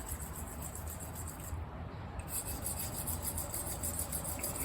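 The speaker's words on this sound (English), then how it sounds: "So I'm currently on a 250 grit stone, taking off the coarse scratch pattern" A D2 steel blade is drawn over a 250 grit sharpening stone in a continuous, quiet, gritty rasp, the rubbing strokes running steadily throughout.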